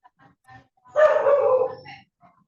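A single dog bark-howl rings out, drawn-out and fairly loud, with faint scattered yips before and after in an otherwise quiet space.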